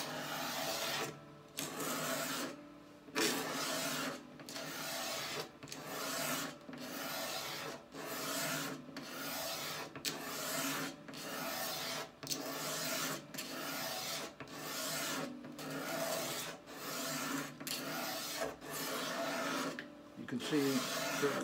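A hand scraper shaves wood from the neck of a Harmony Monterey archtop guitar, giving repeated rasping strokes in a steady rhythm, close and fairly loud, with short pauses between strokes and some talking over it.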